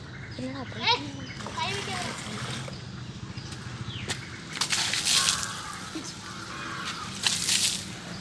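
Someone washes with soap and water outdoors, with splashing and sloshing bursts and trickling under a voice and other talk, growing louder toward the middle and end.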